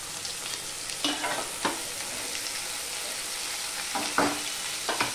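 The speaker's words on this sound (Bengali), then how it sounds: "এবার আলু পেঁয়াজ রসুন সব একসাথে আমি ভেজে নেব।" Potatoes, onion and garlic frying together in a pan, an even crackling sizzle with a few spatula scrapes and knocks, close and unaccompanied by speech.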